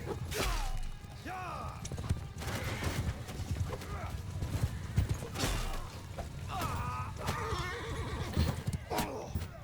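Horses neigh and whinny repeatedly amid the clatter of hooves during a battle in Mount & Blade II: Bannerlord, with horse archers on the flank; several loud whinnies rise over battle noise while someone talks.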